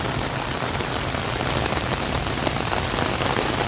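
Heavy monsoon rain pours steadily over Luneta park in Manila, a dense, loud, unbroken hiss of drops striking surfaces close by.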